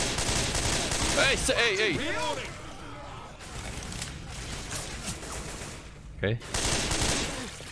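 Sustained gunfire in a Minecraft Left 4 Dead mod game crackles steadily throughout, with a voice speaking over the shooting.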